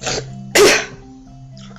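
A female character's sneeze from a Katawa Shoujo visual novel, a short breathy lead-in, then one forceful close burst and a softer follow-up at the end, over quiet music.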